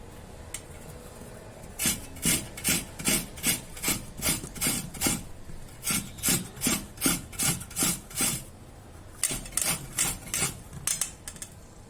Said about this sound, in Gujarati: હવે તેને મીડિયમ હોલવાળી ખમણીથી આપણે તેનું ખમણ કરી લેવાનું છે